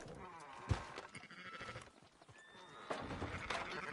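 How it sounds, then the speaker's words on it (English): Sheep in Red Dead Redemption 2 bleat several times across the stretch, wavering animal cries over a low game ambience, with a louder bleat near the end. "Fine sheep."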